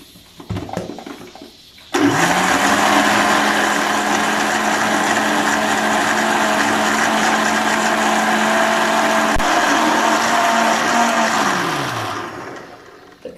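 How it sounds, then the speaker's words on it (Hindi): A kitchen blender grinds yogurt and fried onion into a paste, starting abruptly and running loud and steady for about ten seconds before winding down and stopping. "थोड़ा सा पानी ऐड करेंगे और इसे 1 से 2 मिनट के लिए ब्लेंड कर लेंगे अच्छी तरह"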